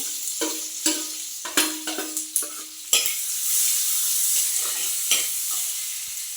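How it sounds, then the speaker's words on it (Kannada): Onion sizzles loudly in hot oil with fried red chillies while a utensil scrapes and stirs the pan in repeated sharp strokes, followed by a steady frying hiss. "ಮೆಣಸು ಫ್ರೈ ಆಗಿದೆ ಈಗ ಈರುಳ್ಳಿ ಹಾಕ್ತೇನೆ"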